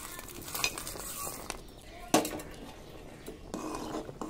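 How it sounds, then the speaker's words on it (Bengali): A spoon stirring payesh with batasha in a pot, with scraping and clinking strokes against the metal, a sharper knock partway through and soft rustling between. "খুব ভালো করে নেড়ে দেবো।"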